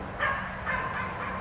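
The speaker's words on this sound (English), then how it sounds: "I apologize for the background noise of the dogs" Dogs barking faintly in the background, two muffled barks about half a second apart over steady outdoor noise near a homemade water well drilling rig.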